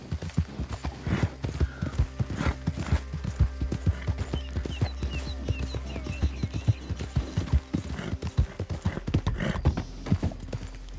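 Horse hooves clip-clop in the Red Dead Redemption 2 game, a steady rhythmic trot of hoofbeats close by with faint jingling tack, running continuously with no talk.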